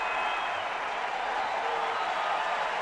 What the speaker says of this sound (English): Capacity crowd today